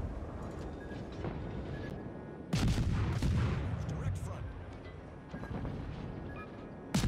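The destroyer V-170 firing its guns in World of Warships, a few heavy booming shots followed by rumbling echoes, separated by quieter engine and sea ambience, with faint game sounds around them.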